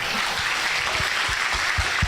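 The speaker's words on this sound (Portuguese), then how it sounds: "Aplauda bem forte." A church congregation claps loudly in a dense, steady burst of applause that fills the room for about two seconds.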